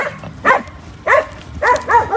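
Dogs in a village bark in short harmonic bursts, around five loud barks spaced irregularly close to the listener, with a few paired yips near the end over quiet background noise.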